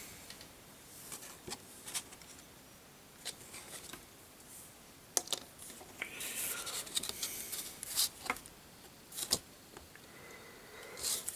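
Scissors cut around small decals on a model-kit sticker sheet, giving soft snips and paper rustles with short pauses between cuts, close and quiet, no talking.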